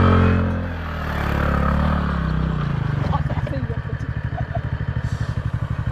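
A TVS Ntorq Race XP scooter revs up while drifting, its engine rising into a rapid pulsing drone with some scraping clatter, close, as someone speaks over the opening part.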